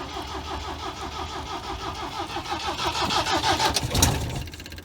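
A 1973 MGB GT cranks and catches, then its engine runs with a throttle blip that swells the revs before settling, loud and close with no talk over it.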